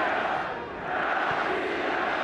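Football fans in a stadium crowd chant together at a Lokomotiv Moscow versus Lazio Cup Winners' Cup semi-final, a broad, steady roar of many voices carrying throughout.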